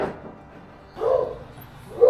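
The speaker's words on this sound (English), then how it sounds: "Sorry for the dogs, but okay." Dogs barking in a woodworking shop around a 10-inch 4HP cabinet table saw, with two muffled barks from a distance in an otherwise quiet room.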